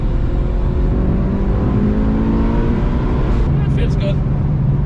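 A Mitsubishi Lancer Evo 6 drives on a country road, its engine note droning loud and steady as it accelerates, with a brief higher whine near the end.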